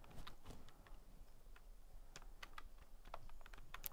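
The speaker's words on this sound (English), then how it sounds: "Oh, it's the keyboard. It's the same dodgy one that we were using before that was frustrating us." Typing on a faulty, unreliable computer keyboard: a quiet run of irregular clicks and key taps spread over several seconds at close range, with no voices.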